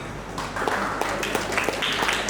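Steady applause from an audience at a panel discussion on angel investing and startups. It runs throughout as a dense, even wash of many hands clapping at moderate level, with no clear voices.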